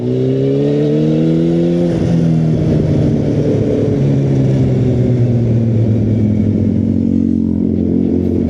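A Yamaha FZ8 motorcycle pulling hard in second gear, its engine loud and close with a rising drone that dips briefly at a shift point and climbs again, no talking.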